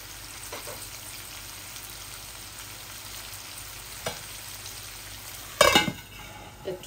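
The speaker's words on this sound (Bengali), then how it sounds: "এখন চিকেন দিয়েছি, চিকেন দিয়ে একটু নাড়াচাড়া করে আমি আলুটাও দিয়ে দিছি" Chicken and potatoes sizzle steadily in a pan, with occasional scrapes and clinks of a utensil stirring, one louder clatter near the end.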